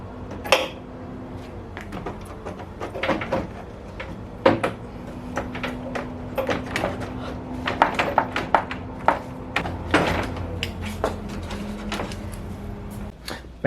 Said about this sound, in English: bam, radiator is dropped in